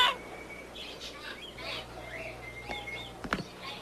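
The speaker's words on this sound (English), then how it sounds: "The bird said Fauntleroy, man" A pet bird calls with a few short chirps and squawks over a quiet room background, fairly close, with scattered brief clicks.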